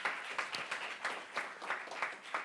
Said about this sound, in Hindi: हमें एक बार आकाशवाणी के लिए ताली बजानी चाहिए सबको